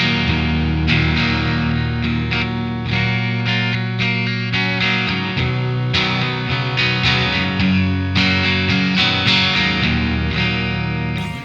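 A distorted electric guitar through a Mooer Preamp Model X2 on the back pickup, playing a rock riff of strummed chords and single notes, loud and sustained throughout.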